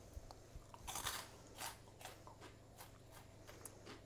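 Crunchy corn puffs are bitten and chewed close up: a few sharp, loud crunches followed by a series of softer, rhythmic crackling chews over quiet room hum.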